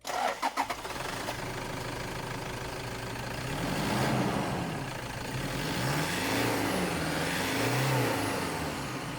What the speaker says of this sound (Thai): หลังจากนั้นเราก็ไปทำการสตาร์ทเครื่องเปรียบเทียบนะครับ